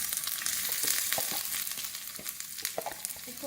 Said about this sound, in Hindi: 5 टेबल स्पून हम ऑयल गर्म करेंगे, उसमें प्याज शामिल करेंगे तड़के के लिए।